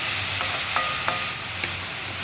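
Carrot and egg thoran being stirred in a pan over low flame, a steady close sizzle-hiss with a few light scrapes of the spoon against the pan, no voices.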